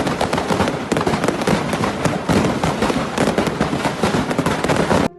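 Colourful fireworks explode nonstop in a chaotic street display gone wrong, a dense barrage of sharp cracks and bangs firing in rapid succession, loud and close throughout.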